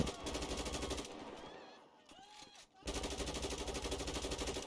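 Rapid bursts of gunfire in the game GTA V with a zombie mod, with a brief quieter gap in the middle before the shooting resumes.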